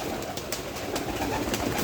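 Fancy pigeons coo in a pigeon house, soft repeated throaty coos over a steady close background hum, with no talking.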